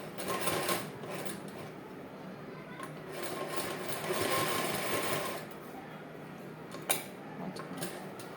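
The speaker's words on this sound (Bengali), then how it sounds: "এরপর আমি এইভাবে সেলাই করে নিয়ে শেষ করে দেবো।" A sewing machine stitches the back of a ladies' chudidar in a continuous whirring run at close range, swelling slightly mid-way, with a sharp click near the end.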